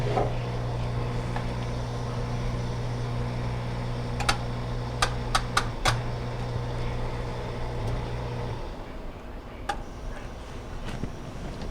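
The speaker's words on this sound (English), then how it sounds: "So you hear it start filling." A Whirlpool dishwasher starting to fill with water: a steady low hum and rushing flow, with a few sharp clicks and ticks midway before the fill noise drops off near the end.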